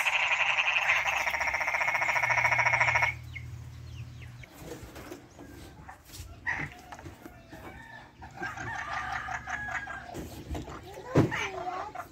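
A loud, buzzing chorus of frogs croaking outdoors in Panabo, Philippines, then quieter pulsing croaks with scattered calls and some people talking in between.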